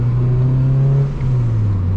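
Close engine drone and whir of a turbocharged Honda Civic coupe with a big 350 hp turbo, pulling in second gear, a steady low tone that dips briefly midway and then climbs again.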